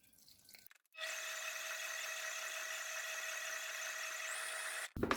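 Warm water poured from a cup into bread dough, a steady close trickle lasting several seconds alone before stopping abruptly.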